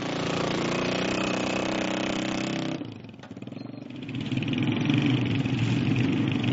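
A car engine drives out of a valley, first a steady close running hum, then a brief drop as it eases off before the engine picks up again with a rougher, louder revving drone.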